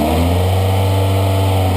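A car engine with a rough idle, being treated with SeaFoam, runs loud and close as the throttle is worked, giving a steady, heavy drone with a strong low rumble and no voices.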